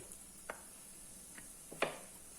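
A knife cuts a peeled boiled potato into thick pieces on a board, giving three soft, separate chopping taps spaced unevenly over a quiet background.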